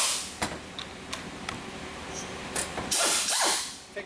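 A ratchet wrench works a 14 mm nut loose on the AC compressor clutch of a VW TDI, with close, scattered metallic clicks and a brief hissing rush near the end.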